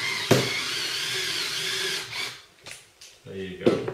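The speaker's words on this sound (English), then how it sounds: "Manual screwdriver is probably even more desirable than electric. I'm just using that because that's the only thing to hand." Electric screwdriver driving the final screw into a kit assembly: a close, loud whirring run lasting about two seconds, then short intermittent bursts as the screw seats, with a voice speaking between them.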